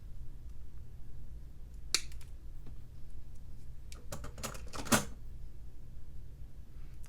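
Two sharp metallic snips of cutters clipping a link off a beaded jewelry chain strand, one near the two-second mark and a cluster of clicks around the fifth second, close and crisp over a quiet room hiss.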